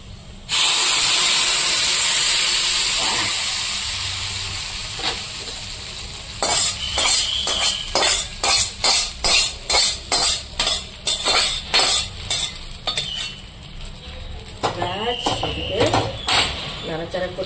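Hot tempering poured into khichuri, starting with a loud burst of sizzling that fades, then a run of rhythmic scraping stirs and utensil clinks against the pot, close and clear.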